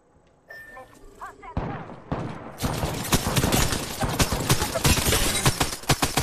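Rapid gunfire in a free online shooter video game: sparse shots at first, then dense, loud bursts of repeated shots and impacts that keep going without a break.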